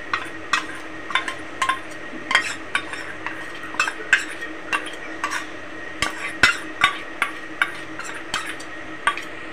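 Spice paste of raw peanuts, green chillies and poppy seeds being stirred into marinated chicken in a bowl, with a steady run of close, wet scraping and clinking spoon strokes against the bowl, no talk.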